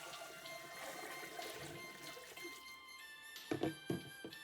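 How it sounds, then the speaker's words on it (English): Salt water from brined cabbage for kimchi is poured off, a faint steady trickle and splash ending in a few louder sloshes and thunks, with no talk. "Dispose of the salt water."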